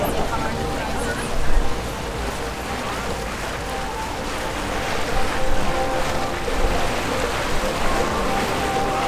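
A boat moves across Lake Constance, its engine drone, splashing water and wind rumble forming a steady, loud wash, with people talking over it now and then.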